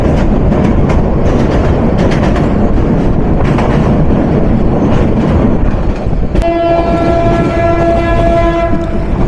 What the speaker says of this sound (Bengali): প্রথম ডাবল লাইন ক্রসিংটা পেয়ে গেলাম ভোরের প্রথম রোদ।